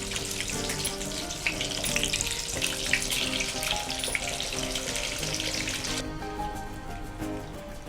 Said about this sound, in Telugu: సిమ్లో పెట్టి ఫ్రై చేయాలా? ఓకే, సిమ్లో పెట్టి కొంచెం బ్రౌన్, కొంచెం